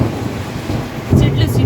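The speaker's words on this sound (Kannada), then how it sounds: "ಸಿಡ್ಲಿದ್ದು ಗುಡುಗು" Thunder rumbles in during a heavy rain and wind storm over a hilly village, with steady rain hiss building into a louder, deep rolling crack in the last half-second.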